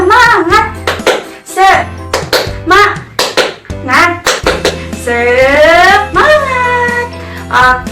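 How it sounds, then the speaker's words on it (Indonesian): A classroom of young children chants together with a teacher, their voices rising in rhythmic bursts punctuated by group hand claps, loud and close. "Tepuk semangat."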